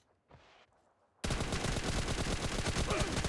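Rapid automatic gunfire from a PUBG Mobile team deathmatch bursts in abruptly after a brief quiet blip, then rattles on continuously and densely, loud and close.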